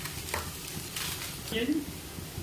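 Spices including turmeric fry in oil in a pan for a drumstick curry, with a faint steady sizzle and the soft scrape of stirring throughout.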